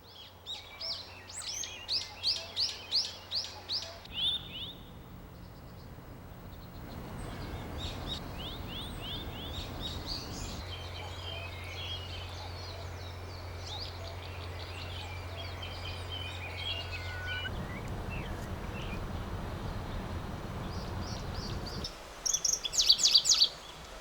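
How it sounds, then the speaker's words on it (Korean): Assorted wild birds sing in an undisturbed forest, a rapid repeated chirping burst at first, then scattered calls over a steady low hum and broadband rush, with a brief louder chirp at the end. "훼손되지 않은 숲은 새들의 천국으로 이곳엔 조류 도감에나 나오는 갖가지 새들이 살고 있다."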